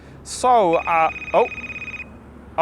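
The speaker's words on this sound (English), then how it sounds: "sorry, I'm getting a phone call." A telephone rings with an incoming call, a bright electronic ring that repeats several times in short bursts, loud and close, while a voice speaks over it.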